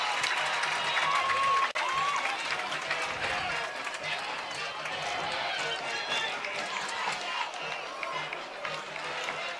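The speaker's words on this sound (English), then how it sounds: "Crowd is going crazy." Crowd at a Farmington varsity high school football game against Cape Central cheering and roaring after a fumble turnover, a loud sustained wash of voices that swells throughout, with an announcer's voice over it.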